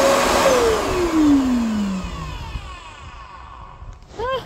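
A new vacuum cleaner runs with a loud rushing roar and a whine that slides downward in pitch, the noise easing off over a few seconds.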